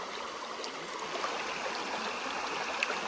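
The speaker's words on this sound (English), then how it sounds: "Now this is water on the rocks." Water flowing over rocks in an Ozarks stream at Dillard Mill, a soft, steady babbling wash with small trickles and splashes, fairly quiet and uninterrupted.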